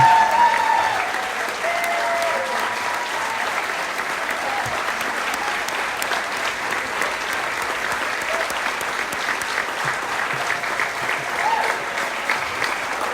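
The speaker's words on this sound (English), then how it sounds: "Please give them a nice round of applause." Sustained applause at a women's basketball Hall of Fame banquet as the inductees stand, a broad, even wash of clapping from a large audience lasting well over ten seconds.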